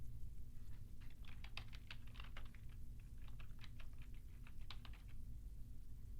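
Someone types sign-in details on a computer keyboard. The key presses come in quick, irregular bursts, soft and close over a low steady hum.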